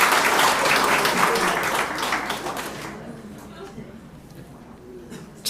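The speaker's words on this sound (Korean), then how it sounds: "맞으면 박수 한번 쳐봐요." Church congregation clapping hands during a sermon on marital happiness, a loud, dense round of applause for about three seconds that then dies away into quiet room noise.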